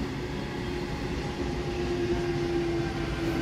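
An up Howrah–Bandel local train runs toward Bandel Junction with a steady, close rumble of carriages and a sustained whining tone throughout, and no voices.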